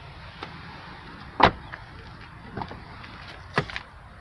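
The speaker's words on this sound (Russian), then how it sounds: "И вот так звучат задние." Rear doors of an uninsulated Honda Fit Shuttle close in sharp, hollow metallic thuds: one loud slam, then a softer knock, then another firm slam with a short rattle, with no talk over them.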